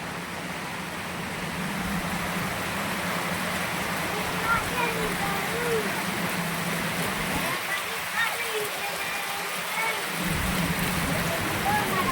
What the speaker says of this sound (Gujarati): વરસાદ એવો જ પડે